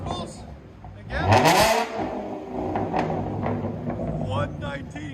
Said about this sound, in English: So you can see why we can rev it so high.